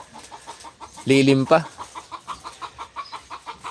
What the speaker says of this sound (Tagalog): mukhang nangitlog na naman ang manok nila